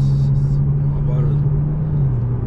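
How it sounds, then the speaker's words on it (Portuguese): An Aston Martin DBS V12 engine hums at a steady low pitch, close and loud, with a slight drop in tone near the end, on a street in Tokyo. "O motor do V12 é outro"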